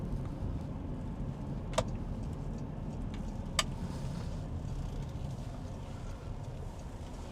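Porsche Macan 2.0T, a 2018 model with 252 hp, accelerating from 0 to 100 km/h: a steady, muffled engine and road drone heard from inside the cabin, broken by two brief clicks.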